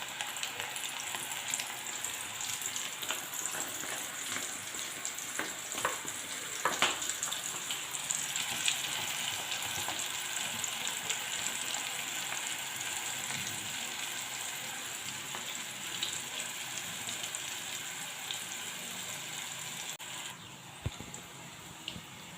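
Onion pakoda batter, sprinkled bit by bit into hot oil over a medium flame, deep-fries with a steady bubbling hiss that stays fairly quiet and even throughout, with a few faint clinks near the end.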